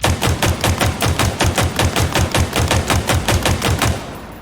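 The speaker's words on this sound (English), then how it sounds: "I want to do the same thing with the pistol." Sidekick pistol in the video game Halo Infinite fires a fast, evenly spaced string of about nineteen sharp, punchy shots at close range, steady and loud throughout with no talking.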